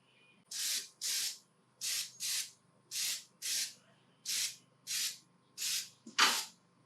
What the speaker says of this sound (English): I am overspraying the hell out of that cabinet.